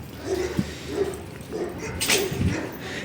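A dog in a garden gives a few short whimpers and soft barks, moderately loud and close, with faint background noise between the calls.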